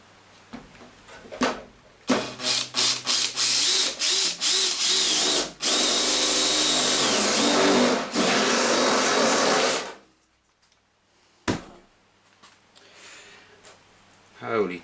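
A 9mm power drill bores the jack hole in a 737 home-sim pedestal: several quick trigger bursts, then a loud, close, steady whine for about eight seconds, a pause and one more short burst.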